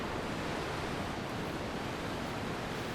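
Blue glacial river water at Barnafoss in West Iceland rushes over flat, rocky terrain, a dense steady broadband roar of flowing water, close and unbroken, with no voices.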